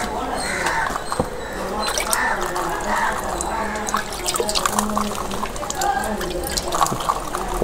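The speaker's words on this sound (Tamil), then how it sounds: "ஸோ ஜஸ்ட் இப்படி ஸ்ப்ரிங்கிள் பண்ணலாம்" Liquid WDC bio fertilizer is sprinkled onto young seedlings, giving scattered light patters and drips while a person talks over them.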